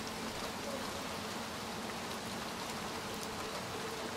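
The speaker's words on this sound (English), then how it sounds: "It's raining." Steady, dense rain from the video game Little Nightmares 2, a continuous hiss of drops falling on surfaces, even and close throughout with no voices.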